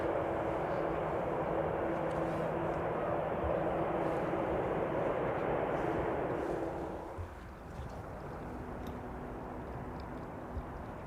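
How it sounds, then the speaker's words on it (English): A Finnair airliner on approach to land at Amsterdam Schiphol passes as a loud, broad jet roar that holds steady and then drops away sharply, leaving quieter distant background noise. "Finnair is coming in."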